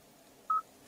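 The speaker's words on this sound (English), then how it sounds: "you have an integrated dial pad" One short, clear beep sounds from a luxury car's integrated infotainment phone dial pad, a single crisp touch tone over a faint hum.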